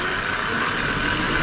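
A homemade 84-volt e-bike motor accelerating toward top speed, a steady loud whirring roar with rushing wind noise throughout a short burst, no talk.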